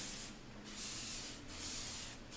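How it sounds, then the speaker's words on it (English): A Sames Kremlin Airmix paint spray gun sprays a door, giving loud, close hissing bursts in a regular on-off rhythm of passes with short dips between. "Here is a door being sprayed using the correct technique."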